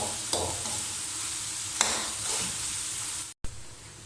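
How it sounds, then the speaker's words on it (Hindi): Chicken stir-fried in masala in a pan while cooking bhindi chicken, a steady sizzle with a few sharp scrapes and stirs of the spoon, then a brief dropout before the frying resumes. "चिकन डालकर दोस्तों आपने इसे 2 मिनट अच्छी तरह भून लेना"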